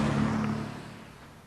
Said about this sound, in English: We're going underneath all the noisy cars now.